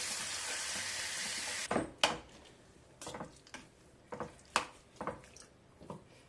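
Onions, tomato and cashews frying in oil, a soft sizzle up front that gives way to intermittent scraping and clinking stirring sounds against the pan, fairly quiet and close.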